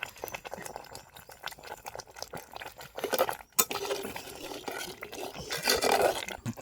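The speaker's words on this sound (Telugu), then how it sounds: "బాగా ఉడకతా ఉంది" An eggplant and pea curry simmers under a lid in a pan, a soft, uneven bubbling and patter with occasional clinks of the lid or utensil, quiet and close, with no talk.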